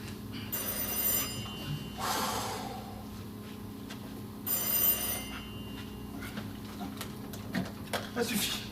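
A telephone bell rings loudly in two long bursts a few seconds apart inside a quiet room, with voices speaking around and between the rings.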